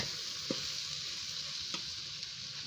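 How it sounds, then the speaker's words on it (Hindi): Okra (bhindi) fries in a pan with a soft, even hiss that runs throughout, quiet and steady, marked by a couple of light clicks of a utensil. "ये मैंने भिंडी डाल दी है। इसकी भूनूंगा अच्छी तरह"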